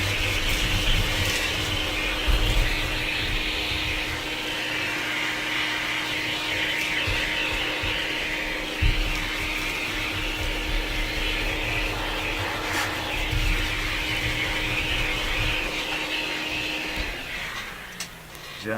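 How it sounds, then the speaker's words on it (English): A vacuum cleaner drones steadily while sucking up debris in a workshop, a loud continuous whine with a few clatters of particles, then winding down at the end. "quick vacuum of this stuff up here"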